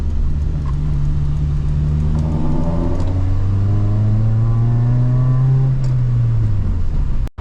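An Acura RSX base model, its IMRC fault codes cleared, revs up to high RPM in a long, loud, steadily climbing engine wail that holds near the top before dropping away, with no talking.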